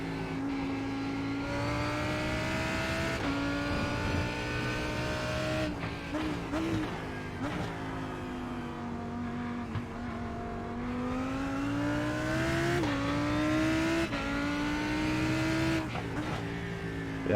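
A Lamborghini GT race car on the Brands Hatch circuit in a racing sim, engine droning steadily with rising revs and sharp gear shifts through each lap section, loud and continuous.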